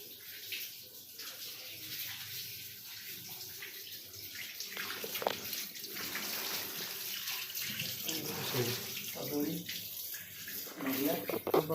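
Cold water pouring steadily into a pan while chhena pana, an Odia sweet of fresh chhena, is being made, a continuous close hiss and splash across the whole stretch, with faint voices in the background.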